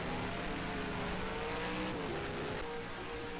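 Race cars in the Coca-Cola 600, a faint, distant roar of engines with a rising and falling pitch, steady wash of track noise over the few seconds.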